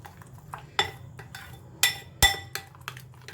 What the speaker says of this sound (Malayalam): ഇനി ഈ മസാല തൈരിലേക്ക് ചേർക്കാം കുറച്ചും കൂടി ഉപ്പ് ചേർക്കുന്നുണ്ട് എല്ലാം കൂടി നന്നായിട്ട് മിക്സ് ചെയ്യാം